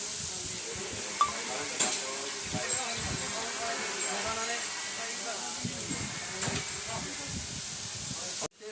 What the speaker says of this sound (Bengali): এই যে আপনার জিলাপি ভাজতে আছে, এই দেখেন কত সুন্দর।